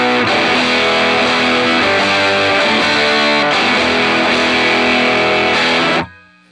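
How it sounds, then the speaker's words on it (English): A loud, saturated electric guitar chord through an Abrachinsky Effects Enigma V2 fuzz pedal rings out with thick fuzz distortion, sustaining steadily for several seconds before cutting off abruptly. "fuzz, distortion."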